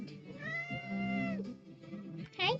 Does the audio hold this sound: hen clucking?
no